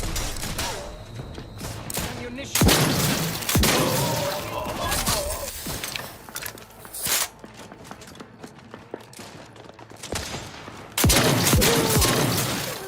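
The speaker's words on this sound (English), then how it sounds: "Oh, the snipers are doing some damage." Sniper and other gunfire in the sci-fi shooter Outer Worlds 2, with loud sharp shots and crashing impacts in bursts separated by quieter stretches of movement and debris.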